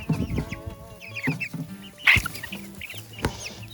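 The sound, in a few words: Brahma chickens and roosters clucking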